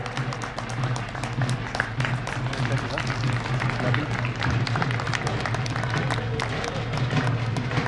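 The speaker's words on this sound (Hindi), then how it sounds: "इनके लिए खड़े होकर के आप तालियां बजाएं" An audience at a community gathering in Faridabad gives a guest sustained, dense applause, with steady rapid clapping from many hands continuing throughout at moderate loudness.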